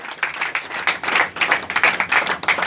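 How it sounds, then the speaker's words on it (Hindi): Audience at an Alliance Clubs International induction and installation ceremony clapping, a loose group of close, uneven hand claps in rapid bursts that rise and dip for a few seconds. "जोरदार तालियां इन दोनों के लिए।"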